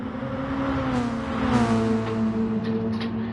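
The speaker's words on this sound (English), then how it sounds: "Don't rev it out, my friend. You're losing time with that screaming." Race car engine screaming as it revs hard up a hill during a sprint race, a sustained rising and falling whine with strong harmonics, fairly loud and close, with no talk.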